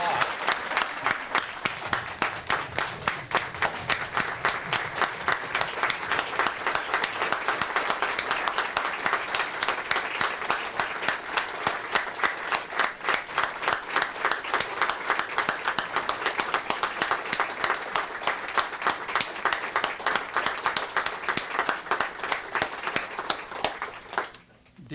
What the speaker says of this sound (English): Now we applaud.